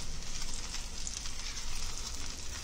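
A paratha fries in oil on a griddle with a constant, quiet, close sizzle and crackle, and nobody speaks.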